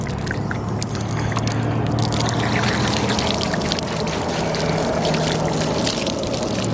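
Water from a hose rushes loudly and steadily through an RV sewer hose being rinsed out while boondocking, a continuous gushing wash with no talking.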